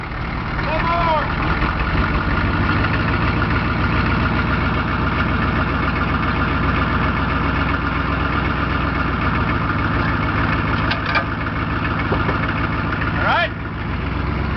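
A gasoline engine idles after firing up, a continuous close chugging rumble that stays steady throughout, with people talking faintly over it at moments.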